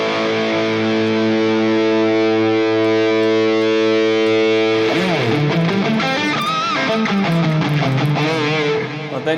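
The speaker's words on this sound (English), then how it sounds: "But then you get this ugly pedal distortion." Electric guitar played through a Nux MG-30 Marshall amp model with the gain pedal cranked, giving a loud, fuzzy high-gain distortion: a sustained chord rings for several seconds, then a run of bent, wavering single notes.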